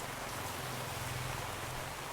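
Steady rain falls on a rainy day in Danang City, central Vietnam, a continuous dense hiss of drops with no pauses.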